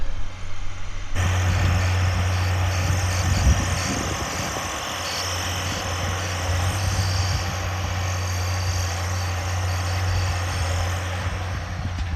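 A Case IH Magnum 340 tractor engine idles steadily throughout, a low droning rumble with a constant hum and some rattling vibration, close by.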